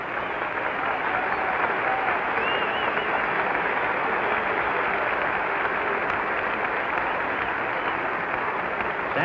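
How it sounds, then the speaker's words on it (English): A stadium crowd at the 1965 World Series Game 7 between the Dodgers and Twins applauds Sandy Koufax walking up to bat, a continuous, even roar of clapping that stays loud throughout. "Koufax getting a round of applause as he makes his way up to the plate."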